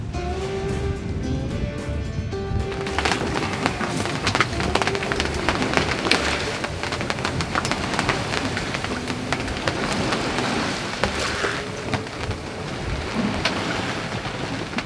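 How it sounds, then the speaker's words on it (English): A rain squall hits a sailboat at sea during an Atlantic crossing, a dense steady patter drumming on the deck and canvas overhead, mixed with wind and water rush, after a faint tonal hum fades early. "It's raining on top of us right now."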